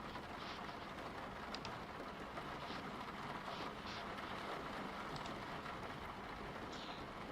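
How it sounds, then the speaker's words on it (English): Sampled rain weather effect played on a DOS computer, a steady hiss of falling rain with faint scattered droplet ticks, continuous and fairly quiet throughout with no talking. "it's just some sampled weather. It's not actually raining."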